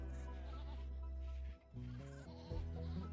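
Sheep in the video game RimWorld give a few drawn-out bleats in the foreground over a steady low game hum, with no talk.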